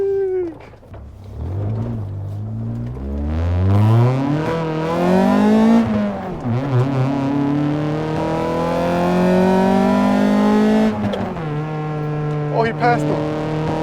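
A BMW M2 accelerates and passes through traffic, its engine note climbing in loud, repeated rising sweeps as it revs hard and then holds a high, strained pitch nearby.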